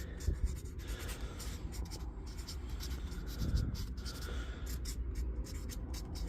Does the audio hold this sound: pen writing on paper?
yes